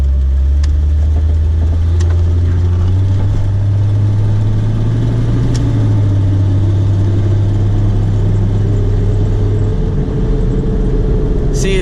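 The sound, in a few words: Jeep XJ driving with driveline or wheel bearing noise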